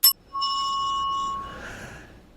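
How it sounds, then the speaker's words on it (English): A notification bell sound effect rings once with a bright, clear metallic tone that sustains and then fades over about two seconds, alone with no speech. "ring that notification bell"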